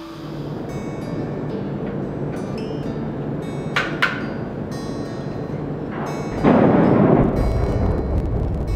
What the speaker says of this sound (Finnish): Poratut reijät panostetaan ja räjäytetään louhintasuunnitelman mukaisesti.